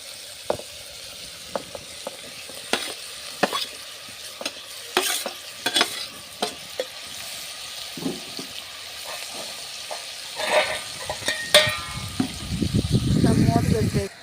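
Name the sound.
tomatoes and ivy gourd being stirred and fried in pan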